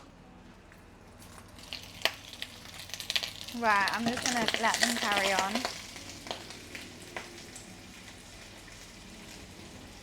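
Lamb soup dumplings frying in a pan, with a steady sizzle that grows into a louder crackling burst midway and then settles back to a quiet hiss, with a voice speaking briefly over it.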